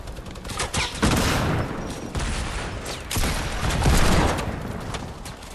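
Rapid loud gunfire during a Fortnite squad match, continuous dense bursts with short dips between volleys, close and dominant with no clear talk.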